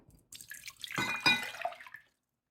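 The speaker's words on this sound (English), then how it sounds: "So to start, I'm going to add 1 cup of cold water." Cold water pours from a cup into a measuring jug for about a second and a half, with a close, steady trickle and splash and a few drips at the end.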